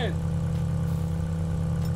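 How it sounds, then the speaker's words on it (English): Racing car engine in GTA 5 roaring at a steady, loud drone under a nitrous boost, with no rise or fall across the stretch and no voices over it. "He uses nitrous at the last minute."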